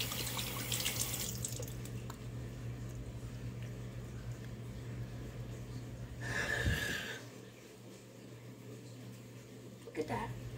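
Tap water runs steadily at a sink during face washing, with splashing and a brief louder gush midway, fairly close and moderately quiet, while breathing and snorting sounds are heard.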